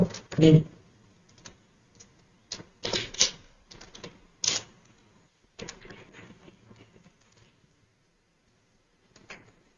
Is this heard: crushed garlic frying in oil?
no